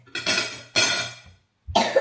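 A person sick with a cough and runny nose coughs in three harsh, close bursts with a short silence before the last one.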